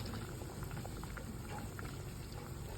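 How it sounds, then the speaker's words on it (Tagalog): Bulanglang broth with vegetables and daing na bangus bubbles at a steady rolling boil in a pot, a dense, continuous close-up gurgle and hiss with no voices. "Bukal ne."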